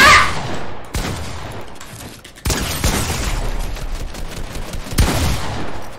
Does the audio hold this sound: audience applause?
no